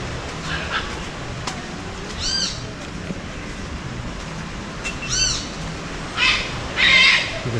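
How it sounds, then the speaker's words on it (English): Parrots call at Las Caletas near Puerto Vallarta, Mexico, a handful of squawks and chirps at a moderate distance over a steady outdoor hiss, with the loudest bursts toward the end. "I guess they have parrots because I can hear them"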